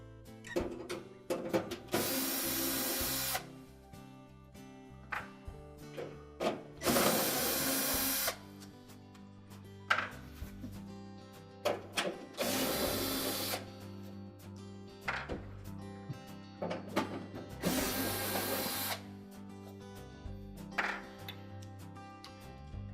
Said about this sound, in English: Now we'll remove the 4 screws in the corner that secure the evaporator cover.